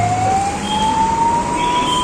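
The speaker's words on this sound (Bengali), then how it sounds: "এই একটা অ্যাম্বুলেন্স যাচ্ছে," An ambulance siren passing on a busy road, its wailing tone climbing steadily over a constant wash of traffic noise, loud and close throughout.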